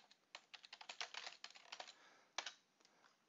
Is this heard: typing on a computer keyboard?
yes